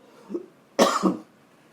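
A brief throat sound is followed by a single loud, harsh cough close to the listener, then quiet.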